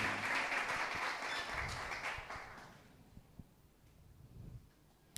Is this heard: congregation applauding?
yes